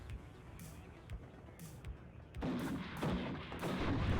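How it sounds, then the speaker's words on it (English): Missile and cannon fire from a BMP-3 infantry fighting vehicle in the wartime strategy game WARNO, heard as a run of sharp launches and booms that grow louder and denser toward the end over a rumbling battlefield bed. "BMP-3 using missiles there."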